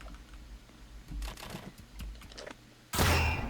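Gunfire in the Roblox game 99 Nights in the Forest on hard mode: a burst of rapid clicky shots in the middle, then a loud blast near the end, with no talk.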